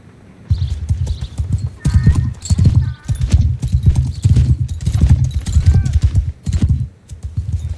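Horse hooves clip-clopping in Mount & Blade II: Bannerlord, a loud steady run of beats with a brief whinny, continuing almost without pause through the clip.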